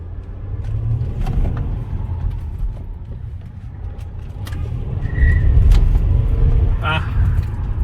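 A W212 Mercedes E350 in sport mode pulls away and accelerates. Its low engine rumble swells and grows heavier toward the end, under someone talking close to the microphone inside the car.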